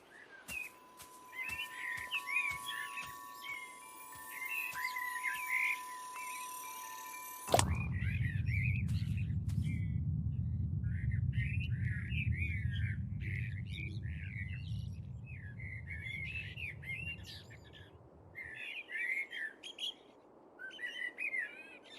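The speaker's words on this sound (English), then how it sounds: "you could just hear that timeline gently easing off those wet dry levels of the ring mod and allowing the sounds to return to normal" Ambient birds chirp over insect buzz and a steady tone while a ring modulator effect processes the scene; a deep rumbling wash then fades out as the birdsong returns to a natural, clear chirping.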